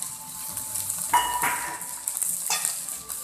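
Peppers, onion, bok choy and bean sprouts stir-fried in a hot wok, steady sizzle with a few sharp scraping tosses of a utensil, close and unvoiced.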